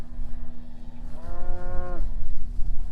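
A cow among cattle gives a single loud, long moo lasting about a second, close up, with low rumbling farm noise around it.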